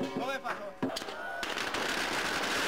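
Firecrackers go off at a Chinese New Year celebration in Manhattan's Chinatown, New York, after a brief stretch of talk, breaking into a loud, dense, rapid crackle of bursts that continues to the end.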